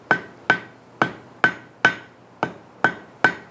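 A hammer strikes hot steel on a forged gig barb eight times in a steady rhythm, each blow a sharp close ring that decays quickly, with no talking.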